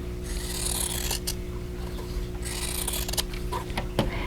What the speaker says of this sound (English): I'm going to cut right on that drawn line